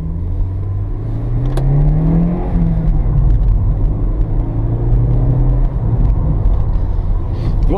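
A Peugeot 306 Cabriolet drives along a country track, its engine giving a close, steady rumble that rises and falls gently as the car pulls, with tyre and road noise underneath.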